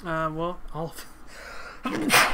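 One sharp, close sneeze bursts out right after a man's speech, with talking around it.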